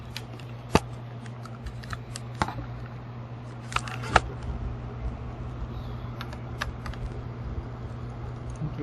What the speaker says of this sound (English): You just have to take out these 3 screws